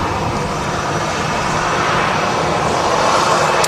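An EasyJet Airbus A320 jet airliner at Manchester Airport gives off a loud, steady jet roar that fills the whole stretch without letting up, and no voices are heard.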